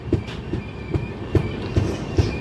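The 17329 Hubballi–Vijayawada express rolls into Khammam railway station, its wheels clacking over rail joints in a steady rhythmic beat beneath a low rumble, fairly loud and close, with no voices.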